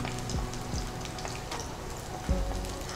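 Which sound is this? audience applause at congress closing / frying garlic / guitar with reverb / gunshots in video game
frying garlic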